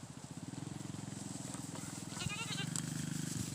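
Goats bleat in a pen, with a rapid, steady run of rhythmic nasal cries and some scattered higher calls over faint background noise.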